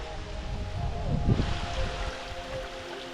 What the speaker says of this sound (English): This is the Paradise Waterfall first level at least.